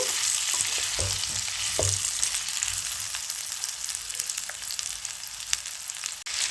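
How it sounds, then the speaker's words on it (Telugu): Chicken liver sizzles in a pan as masala is stirred in, a close, even frying hiss with a few scraping stirs near the start and a sharp clack near the end. "వేసి ఇలా కలుపుకోవాలి ఒకసారి మసాలా పట్టేటట్టు కలుపుకోవాలి"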